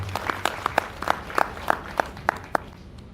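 Audience clapping at a Gujarati comedy stage show, a sparse run of separate claps of moderate loudness, roughly one every third of a second, with no talking.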